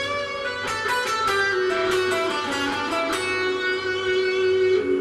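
Electric guitar playing a melodic phrase from a song, a run of clear picked notes ringing into one another and then sustaining, close and moderately loud with no talking.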